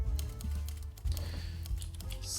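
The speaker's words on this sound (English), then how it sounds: "Guys, you might hear me tippy tapping on a keyboard." Quiet, steady tapping on a computer keyboard while a business-simulation PC game plays, the rapid irregular clicks sitting softly under background game music with no talking.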